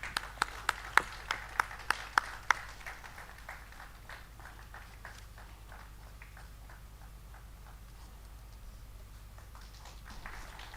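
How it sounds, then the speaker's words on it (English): A handful of sharp, isolated hand claps at a conference felicitation ceremony, about eight evenly spaced claps in the first few seconds, then fading into faint scattered clapping and room murmur. "Round of applause, please."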